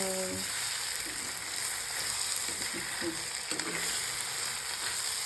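Onions frying in a hot tempering in a pan and being stirred, a steady close sizzle with soft scraping strokes and no voice.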